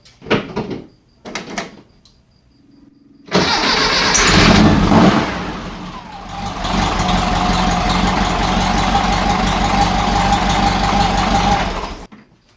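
A car's 2-liter engine fitted with Weber 44 IDF carburetors cranks and fires up loudly in a closed garage, revving briefly before settling into a steady, rough idle, preceded by a few faint knocks.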